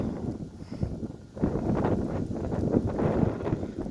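Wind picking up ahead of a storm in Charters Towers, a soft, low rushing that strengthens partway through and keeps buffeting the microphone faintly.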